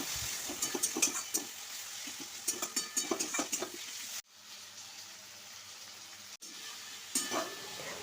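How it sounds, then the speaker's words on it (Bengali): Capsicum and onion frying with soy, chili and tomato sauces for a mixed chowmein, heard as a steady close sizzle with quick spatula taps and scrapes early on, then a quieter, softer stretch of hissing. "ভাজা হয়ে আসলে দিয়ে দেবো ক্যাপসিকাম আর পেঁয়াজ ভালো মতো ভাজা হয়ে গেলে দিয়ে দেবো সয়া সস, চিলি সস আর টমেটো সস"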